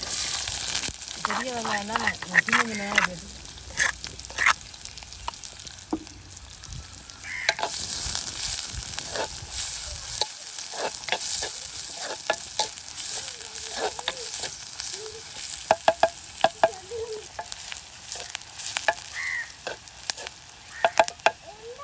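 Mustard seeds, fennel and onion fry in a heated clay pot with a continuous loud sizzle and crackle. Occasional stirring scrapes break through, and crows caw in the background. Nobody talks.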